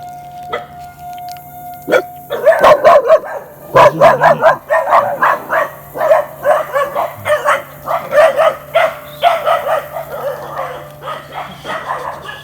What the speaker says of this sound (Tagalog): Wild dogs.